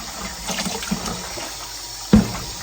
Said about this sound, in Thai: ใส่น้ำร้อนแช่ข้าวเหนียวไว้ค่ะ